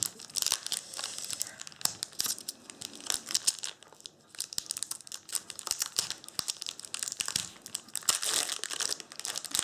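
Foil booster packs of Magic: The Gathering Innistrad Midnight Hunt crinkle and tear open up close, a busy run of crisp crumpling rustles and sharp rips at moderate volume with no talking.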